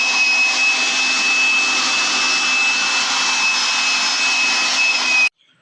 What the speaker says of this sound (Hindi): तो इसे हम लोग वैक्यूम क्लीनर से सक कर लेंगे।